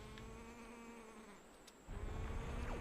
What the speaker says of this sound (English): That annoying noise you can hear now is a Helmarok.